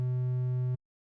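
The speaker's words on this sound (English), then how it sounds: "So to make this you first want to start with a triangle wave." A synthesizer triangle wave with fine tune set to -64 holds one steady, pure low tone for under a second, then cuts off abruptly into silence.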